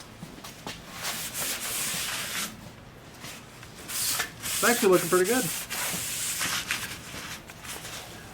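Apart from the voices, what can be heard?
sanding Bondo body filler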